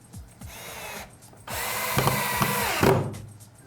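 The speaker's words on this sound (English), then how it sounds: "And drill it all the way through." A power drill whines briefly, pauses, then runs longer and strains as it drives a screw through pallet wood, with clicks and handling sounds around it.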